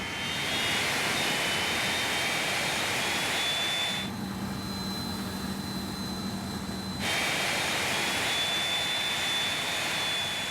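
Engine number three on a C-5M Super Galaxy idles in a loud, continuous jet roar with a high whine, broken by a few seconds of muffled lower drone before the full roar returns.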